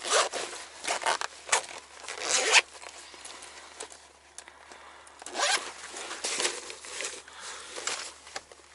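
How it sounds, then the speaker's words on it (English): A zipper is pulled open and shut in several quick rasping strokes, close and clear, with short pauses between bursts and no talking. "The zipper is pretty good."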